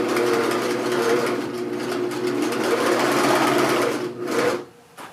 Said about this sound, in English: And that was the other back stitch.